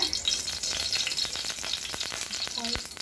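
Oil sizzles steadily in a heated wok-style pan while red pasta is being made, a continuous hiss with faint crackles and a couple of small clinks near the end, no talking.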